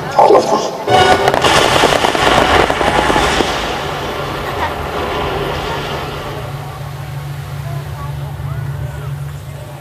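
All weapons firing at once in a film sound effect, a loud burst of booming blasts up front that decays into a long rumbling tail.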